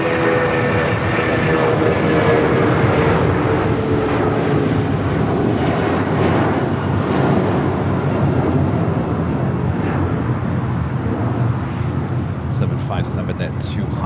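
An Alaska Airlines jet takes off from runway 25 right at Los Angeles International Airport, a loud, sustained broadband engine roar that holds steady throughout with a distant rumbling edge.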